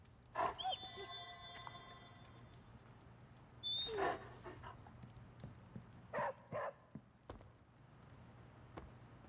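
A dog in the video game Marvel Midnight Suns whimpers and pants in several short bursts spread across the clip, fairly soft against a low background hum, with whiny high-pitched tones at the start.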